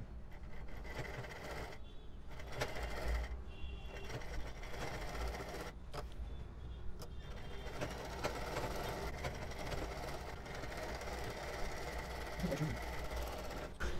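A sewing machine stitches fabric right alongside buckram on a boat-neck kurti, running in a fast steady rattle with a few brief pauses between bursts.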